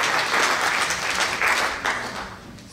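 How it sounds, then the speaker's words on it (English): Audience applause for the actors at the Tryon International Film Festival awards ceremony, a dense, loud wash of clapping from a crowd that swells in waves and begins to fade toward the end. "one more round of applause for all of the actors"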